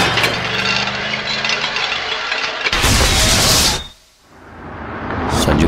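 A car engine with a broken silencer runs loud and coarse, a rough, rattling roar. It swells into a harsh burst, cuts away almost to silence and then picks up again.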